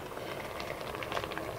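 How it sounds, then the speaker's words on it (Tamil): Mathi fish aviyal bubbling at a steady boil in an open pot, a continuous close simmering hiss with scattered pops and bubbles. "இப்போ டோட்டலி 10 மினிட்ஸ் நல்லா கொதிக்குது, நிறைய தண்ணி வந்திருக்கு பாருங்கள்."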